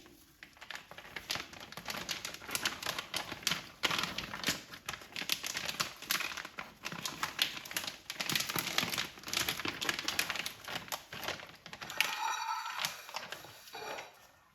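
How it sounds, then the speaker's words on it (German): A plastic vacuum sealer bag being handled while steak is put inside, continuous close crinkling and rustling with irregular soft crackles for most of the span, fading out at the end. "Dafür habe ich diesen Vakuumierbeutel. Ich habe ihn oben umgeschlagen, damit der Rand sauber bleibt, und in den gebe ich jetzt mein Fleisch."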